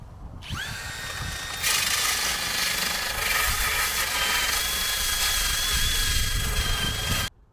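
A power sander with P60 grit grinds surface rust off the bodywork of an S-Type Sport. The whine is loud and continuous, runs for several seconds with a rising pitch at the start, and cuts off abruptly.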